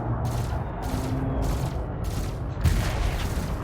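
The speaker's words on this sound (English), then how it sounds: "if I shoot this guy here" Ship weapons firing on another ship during space combat in a fleet carrier game, a run of rhythmic bursts with booming impacts, and a heavier blast near the end.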